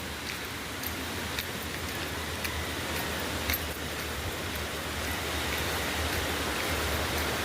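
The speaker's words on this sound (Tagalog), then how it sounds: "Titingnan natin kung gaano kalakas yung tubig dito." Mountain stream water running down from Tapulaw toward Bagsit in the early morning, heard as a steady, close broadband rush with no breaks and no voices.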